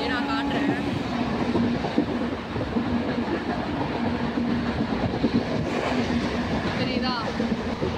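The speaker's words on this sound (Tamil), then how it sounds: "ட்ரெயின் ரொம்ப ஸ்பீடாக போகுது, நான் காட்டுறேன்" A MEMU express train from Chennai Egmore to Pondicherry runs at speed, a loud continuous rumble and rattle heard from inside the coach, with faint squeals and someone talking over it.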